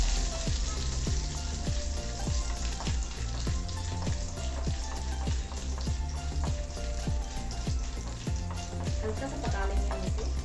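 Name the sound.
dry coconut frying in a pan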